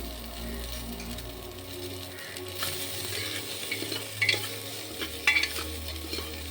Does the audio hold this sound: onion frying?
yes